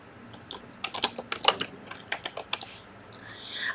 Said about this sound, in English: I will type in my topic, the topic being Star of David.